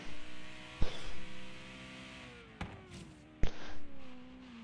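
A car's engine in the Forza Horizon 3 racing game revs through a lap of Ocean Spray Circuit, rising and falling engine tones broken by three sharp gear-change cuts.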